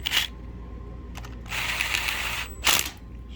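Bolts on a Mercury 60hp outboard lower unit are zipped down with a ratchet in short bursts of fast mechanical clicking, close and clear, separated by brief pauses.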